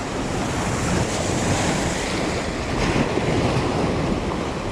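Strong wind gusts across the microphone over steady crashing surf on the Rayong seashore, a loud, continuous broadband roar with no pauses and no voices.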